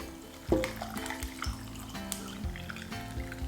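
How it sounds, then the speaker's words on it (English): Basil lemonade is poured into a mason jar over lemon wedge and basil leaves, giving a steady, close liquid splash and trickle with a clink at the start and little gurgles throughout. "Then pour over your lemonade."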